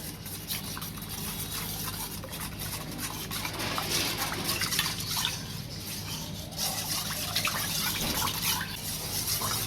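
A spoon of milk powder stirred into warm milk in a home kitchen for egg pudding, giving a steady, close-up scraping and liquid swirl that runs for the whole stretch with no talk.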